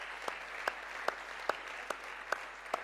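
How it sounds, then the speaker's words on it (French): Applause from a church congregation honoring a visiting woman, heard as soft, evenly spaced single claps about every 0.4 seconds at moderate distance in a quiet room. "Est-ce que vous voulez bien l'applaudir?"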